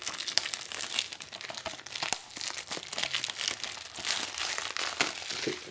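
Plastic shrink wrap is peeled off a Halo: Combat Evolved Anniversary Edition Xbox game case, making close, crisp crinkling and crackling with irregular sharp snaps and a few tearing bursts.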